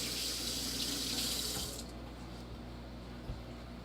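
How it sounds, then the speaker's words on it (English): Tap water runs into a kitchen sink while fingers are rinsed, a loud, close, steady hiss that drops to a softer flow partway through as the stream is reduced. "I'm going to rinse my fingers real quick."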